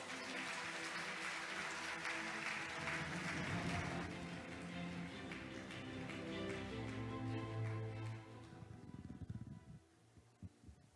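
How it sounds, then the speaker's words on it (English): Conference audience at an international development conference in Seoul applauds a vice minister of foreign affairs, a sustained wash of many hands clapping that holds steady for several seconds, then thins out and fades. "Please welcome her with a big round of applause."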